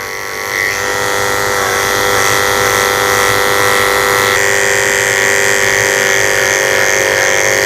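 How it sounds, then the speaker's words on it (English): Electric clippers shaving down a Havanese dog, a loud steady buzzing hum that runs continuously and close up throughout, with a slight change in pitch partway through. "hopefully I can shave them right out"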